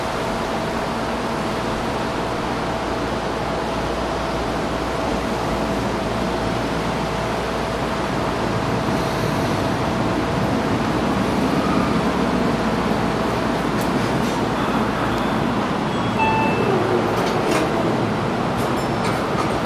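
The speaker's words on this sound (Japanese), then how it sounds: "The local train bound for 和光市 is arriving at track 2." A Seibu 40000 series local train pulling into Shin-Kiba station on the Tokyo Metro Yurakucho Line, a steady rolling rumble with squealing brakes and clicks toward the end as it slows.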